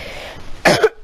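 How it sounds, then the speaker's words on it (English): A single short throaty cough bursts out loud and close during a Fortnite building session, followed by a brief catch of breath. "I need to stop coughing."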